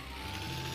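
Turbo whistle from a warmed-up van engine in the game My Summer Car, a thin steady high-pitched tone riding over a continuous low engine drone, short and even.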